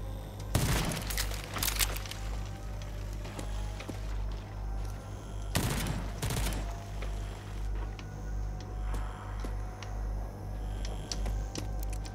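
Gunshots in RAGE 2, two sharp loud bursts a few seconds apart over a steady low droning background, with quieter clicks and thuds in between.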